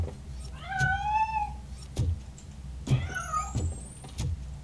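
Cat meows and caterwauls from the video game RoboCop Rogue City, several rising and falling wails spread across the moment with dull thumps beneath, fairly close and alone without talk.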